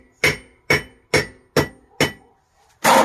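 Five sharp, evenly spaced hammer blows ring out on steel washers, each a loud close metallic clank with a short decay, followed by a louder, longer clatter at the end; no speech.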